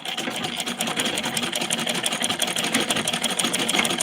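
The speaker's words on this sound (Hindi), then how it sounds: "ब्लाउज सिल रहे हैं बहन, ब्लाउज सिल रहे हैं" A sewing machine stitches a blouse with a steady, fast, close mechanical whirring and rapid needle clatter running continuously without pause.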